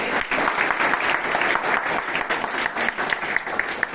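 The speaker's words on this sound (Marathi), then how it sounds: "टाळ्या होऊ द्या सगळ्यांना" Audience at a Brain Awareness Week celebration at Radiant Superspeciality Hospital in Amravati breaking into steady, dense applause for all the participants, a continuous wash of many hands clapping with no voices over it.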